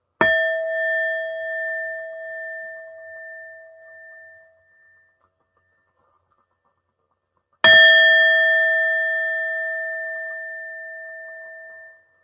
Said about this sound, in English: I love the energy of this division bell because it's programmed automatically with the heart chakra.